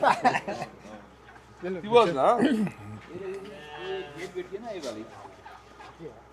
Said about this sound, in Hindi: जी, ये भेड़ें हैं।